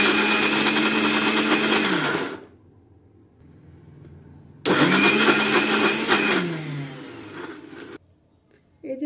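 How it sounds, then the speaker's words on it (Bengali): An electric blender purées boiled carrots for carrot halwa in two loud, whirring bursts, each a couple of seconds long and separated by a short quiet pause, with no talk over the motor. "এখন আমি ব্লেন্ড করে নেব।"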